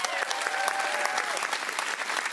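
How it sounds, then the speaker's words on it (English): An audience applauds after a dance performance at a Strictly-style dance competition in Surrey, a busy, steady patter of many hands with a voice briefly heard beneath, close and fairly loud throughout. "So big round of applause, please,"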